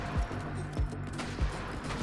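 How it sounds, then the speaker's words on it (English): Explosions in the NIMRODS bullet-heaven video game, three deep booming thumps at regular intervals over a dense, noisy backdrop of constant gunfire. "The screen is now explosions."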